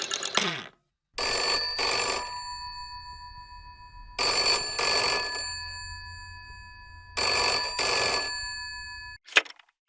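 A telephone bell rings three times in loud, close double bursts separated by silences, followed by a short sharp click at the end.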